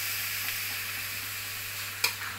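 Pounded cassava leaves with spices frying in oil in a pan, a soft continuous sizzle and hiss with gentle stirring, ending in one brief sharp scrape of the utensil, no voices.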